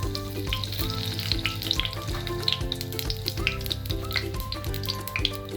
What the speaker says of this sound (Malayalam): നമുക്ക് ഇപ്പം കടുക് ഇട്ട് കൊടുക്കാം.